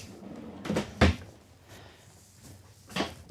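A long kitchen drawer in a 2024 Newmar Dutch Star 4369 motorhome being lifted slightly and pushed shut, giving a few close knocks and thuds with one sharp bump near the start and another near the end.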